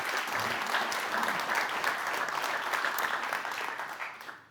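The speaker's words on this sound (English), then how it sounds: "Give him a round of applause." Applause from an award-ceremony audience fills the room, a dense and steady clatter of many hands that holds for several seconds and then begins to fade at the end.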